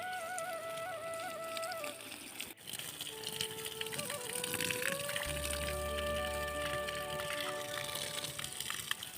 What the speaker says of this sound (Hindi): अब आलू में डालते हैं पानी को